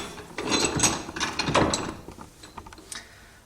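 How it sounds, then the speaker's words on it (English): A relay is pulled out of its holder on a model train control panel, giving close, dry plastic clicks and scraping rattles over about two seconds, then a few fainter taps, with no talking. "we're going to take our relay out of the visor"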